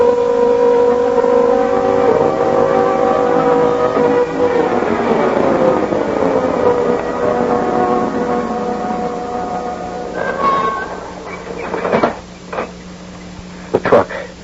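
A garbage truck engine drones and shifts pitch as it pulls away in a 1970s radio drama effect, gradually fading, followed by scattered clanks and thumps near the end.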